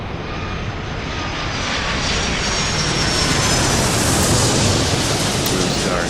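A jet airliner engine in the Airport Madness game roars steadily through its takeoff, a dense broadband rush that swells slightly toward the end with no pauses.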